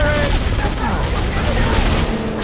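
Gunfire in the Halo: Combat Evolved campaign, a loud, dense and continuous barrage of shots with heavy low rumble, with voices mixed in.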